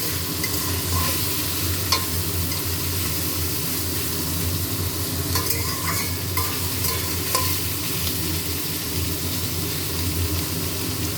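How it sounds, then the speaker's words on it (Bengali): Capsicum and green peas frying and being stirred in a pan: a steady, close sizzle with a constant hiss of hot oil, broken by occasional scraping clicks of the spoon, alone with no talk. "সবজিটা একটু ভেজে নিচ্ছি।"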